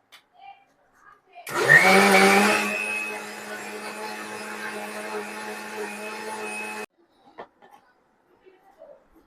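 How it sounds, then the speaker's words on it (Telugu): A mixer grinder blends a shake, whirring loudly for about five seconds, starting with a harsher surge then settling into a steady high motor whine before cutting off abruptly. "మిక్సీ వేసేసుకుందాం"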